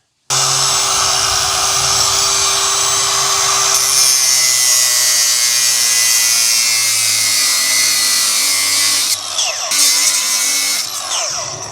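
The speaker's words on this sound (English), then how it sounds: "I'm gonna go ahead and take the grinder and just cut those two off" An angle grinder cuts through a chain jamming a New Idea 325 corn picker behind a John Deere 4430 on a small farm: a loud, continuous high whine that holds steady for about ten seconds, shifting slightly in pitch as the cut goes through.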